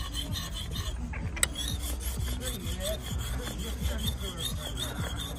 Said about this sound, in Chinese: 再磨磨刀